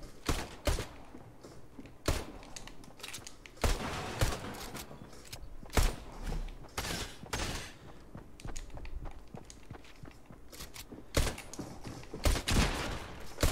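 Gunfire in the video game Fortnite, with bursts of rapid shots and scattered single cracks over game ambience across a long stretch, fairly loud and close, with no voice over them.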